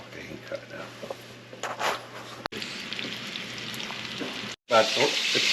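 Chicken sizzles steadily as it fries in olive oil and butter for Italian chicken Valdostana, with a couple of brief breaks in the sound.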